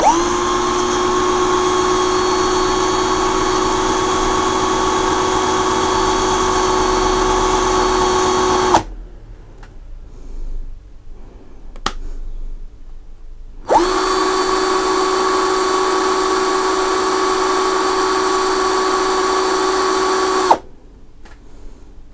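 An ASTEEL cordless drill with impact function and metal chuck runs at speed 2 in two long steady bursts with a quiet gap between, giving a close, loud motor whine with no talk.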